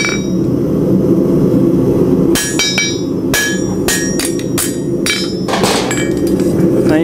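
Hammer blows stamp nail holes into a steel horseshoe, about eight sharp ringing metallic strikes spaced irregularly over a steady low workshop hum, close and loud with no talking.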